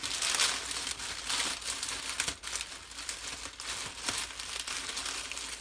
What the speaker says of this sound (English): as soon as we open this bag